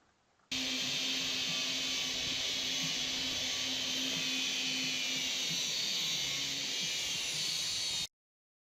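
Angle grinder working steadily on the corrugated steel of a shipping container's bottom C-channel, a loud continuous high-pitched whine with a steady hum, running without a break for about eight seconds before cutting off abruptly.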